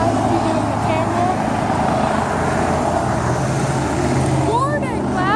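Steady heavy roadway traffic, many cars rushing past in a continuous loud broadband roar with no gaps, a brief squeal of a vehicle near the end.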